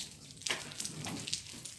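Water falling and splashing steadily at a house construction site, a close hissing patter with small irregular splashes, fairly faint and without speech.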